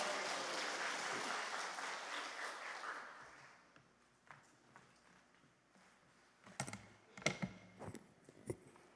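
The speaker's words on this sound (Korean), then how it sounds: "우리 하나님께 영광의 박수를 드립니다" A congregation at a fasting prayer house worship service claps in praise for about three seconds, then the applause dies away into quiet room noise broken by a few scattered knocks and handling sounds.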